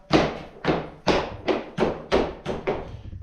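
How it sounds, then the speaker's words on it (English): Hockey pucks shot onto an indoor shooting range surface land as seven sharp, evenly paced clacking thuds, close and fairly loud, with no voices. "if you listen to me clacking or shooting off of this stuff"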